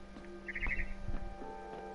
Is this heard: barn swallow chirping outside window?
yes